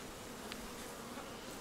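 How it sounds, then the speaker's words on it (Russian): Steady, faint buzzing of honey bees at a hive fills the background throughout, a continuous low hum with no voices. "Летная эта пчела улетит отсюда."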